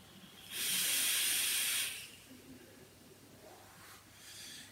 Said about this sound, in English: I'm vaping it at 100 watts at the moment